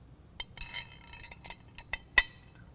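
Metal carriage bolts clink against a steel air-bag mounting bracket during a truck suspension install, several small, light taps and one sharper ring, close and otherwise quiet.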